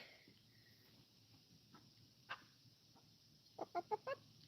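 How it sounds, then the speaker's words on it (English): Chickens in a garden near goats make little clucking noises, faint at first, then a quick run of four or five soft clucks close together near the end, with no talking over them. "You hear the chickens making all their little noises?"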